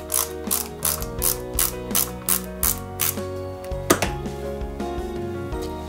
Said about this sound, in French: Et ensuite, on referme le tout avec 5 vis AP.